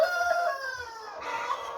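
Chickens in a room on a community chicken farm in South Korea cluck and crow in a steady, close chorus of overlapping calls, with no one speaking.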